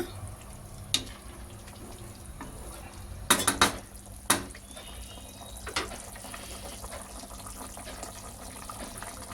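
Metal utensil clattering and scraping in a pan while mushroom biryani masala is stirred and fried, several sharp clinks among soft background kitchen noise and faint running water.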